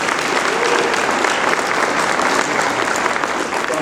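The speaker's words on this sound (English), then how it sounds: "Let's give them a round of applause." A gala audience at a sports hall of fame induction applauds the recreation and parks department with dense, steady clapping from many hands, loud and sustained with no break, under a faint crowd murmur.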